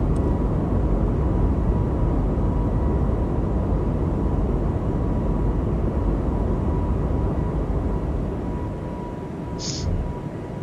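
An airBaltic A220-300 in MSFS 2024 roars at takeoff thrust, a loud, steady broadband engine rush that holds for about ten seconds before easing slightly, with a short high tone near the end.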